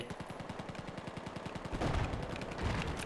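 Rapid automatic gunfire in Battlefield 4 rattles off as a fast, evenly spaced burst of shots, followed by heavier, denser blasts and rumbling combat noise.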